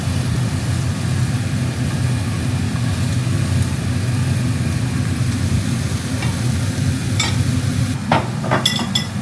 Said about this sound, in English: A good steak, a good sear.